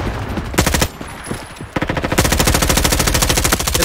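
Rapid automatic MP5 submachine gun fire in the Roblox shooter Frontlines, loud and close, with a short burst, a brief pause, then a long sustained volley of evenly spaced shots.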